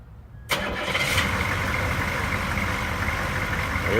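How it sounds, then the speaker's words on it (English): Oldsmobile 5.7 diesel engine cranks briefly, catches after about half a second, then settles into a loud, steady clattering idle close by. "Jeremy, why don't you go over and crank one of them, and then we'll crank the other one"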